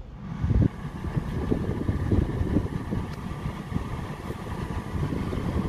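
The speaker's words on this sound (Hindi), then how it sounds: "यह गाड़ी ऑन और अब मैं करता हूँ इसका एसी ऑन।" A Tata Tigor or Tiago car idles with its AC switched on. The engine gives a steady low rumble heard close up, with an even blowing hum layered over it and no talking.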